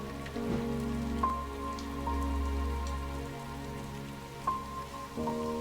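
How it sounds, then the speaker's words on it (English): Rain falls steadily in the game Strange Antiquities, a soft patter that runs the whole time with a few faint drips and a low background hum, and no one speaks. "So it is raining. It is raining right now."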